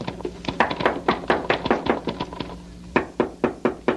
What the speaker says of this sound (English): You get to the top, just bang on the trap door.